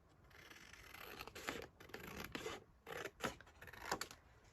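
Scissors snip through paper envelopes close by, cutting down pieces for folio pockets in a run of short, irregular crisp cuts and rustles, with no one speaking.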